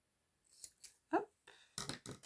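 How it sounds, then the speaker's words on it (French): Scissors snipping a piece of double-sided tape during a paper craft project, a few quiet, sharp cutting clicks spaced irregularly, ending in a brisker cluster of snips close to the microphone. "Je coupe un morceau de double face."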